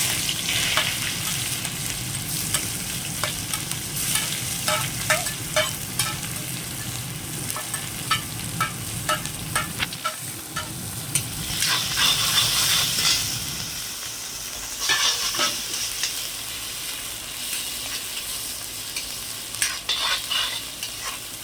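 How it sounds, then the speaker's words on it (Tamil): Steady sizzling of chopped onions and curry leaves frying in hot oil in an iron pan, with occasional stirring scrapes and crackles, continuous and close throughout. "இப்போ எண்ணெய் சூடாயிருச்சு நம்ம இந்த பொடியை நறுக்கி வச்ச ரெண்டு பெரிய வெங்காயம் கருவேப்பிலை மூணு கொத்து அதே போட்டுக்கலாம்"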